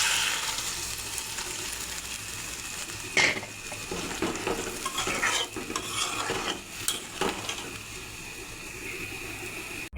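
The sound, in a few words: hot water added to spice mix for hilsa curry, sizzling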